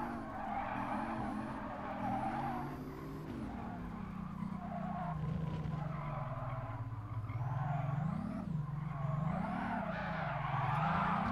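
Tires squeal in long, wavering skids as a race car half drifts through corners in Gran Turismo Sport, with the engine revving steadily underneath at a moderate level and no talking.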